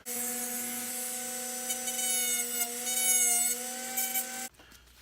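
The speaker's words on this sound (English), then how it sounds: "So now I'll take my Dremel and finish opening this part right here up." Dremel rotary tool cutting into a helmet, a close high-pitched whine that wavers slightly as it bites, running steadily for over four seconds before stopping abruptly.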